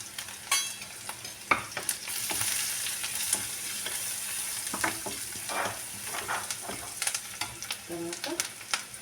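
Spices for a tempering sizzle in hot oil, a continuous crackling hiss broken by sharp spatters and the scrape of stirring, close and alone without talk.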